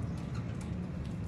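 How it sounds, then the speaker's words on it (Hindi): A pigeon, a prized Sialkot rooftop flier, gives soft low cooing calls against a steady background hum, faint and close, with no talking. "लो दोस्तों एक होर चैंपियन उड्डिया कबूतर आया जी"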